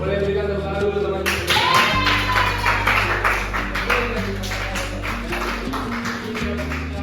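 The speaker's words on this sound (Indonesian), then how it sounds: "boleh berikan tepuk tangan dulu teman-teman" Students in an Indonesian classroom clap for a classmate, a burst of quick, close handclaps running for several seconds, with a teacher's voice speaking over and around the applause.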